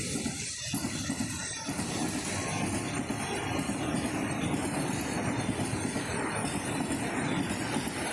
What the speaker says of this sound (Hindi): मित्रों आपणी ट्रेन आई गई है